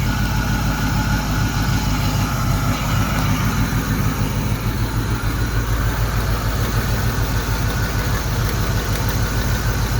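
A Ford Mustang Foxbody engine idles roughly and steadily on its own, a loud, close, continuous low rumble with an uneven, lumpy pulse throughout.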